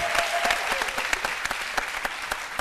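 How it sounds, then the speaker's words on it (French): A studio audience on a midday TV show applauds a guest author. Lively clapping with distinct sharp claps runs through the whole clip at a fairly close, steady level. "On va l'applaudir."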